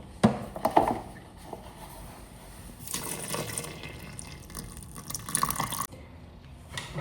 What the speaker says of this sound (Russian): И добавляем молоко